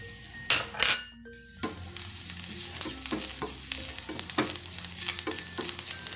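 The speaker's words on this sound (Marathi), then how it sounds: "आता कांदा छान परतत आलाय." Onions fry with turmeric in a pan for kodo millet pohe, giving a steady close sizzle broken by regular scraping stirs, with a few clinks of the utensil near the start and no talk.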